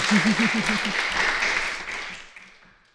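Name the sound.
audience applause at podcast event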